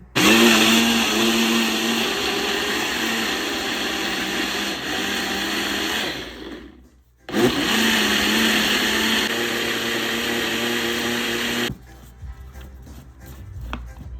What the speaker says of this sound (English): Then I'm gonna just put it in the blender.